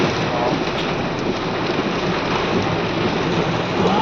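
Steady rain pours down in a dense, even hiss with a low rumble beneath, like a thunderstorm heard from nearby.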